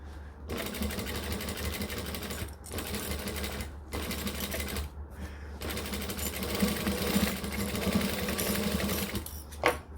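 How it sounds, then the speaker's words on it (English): A sewing machine stitching fabric binding on a bag, loud close bursts of rapid rhythmic needle hammering broken by a few short stops and restarts. "we're just going to do a little bit of back stitching"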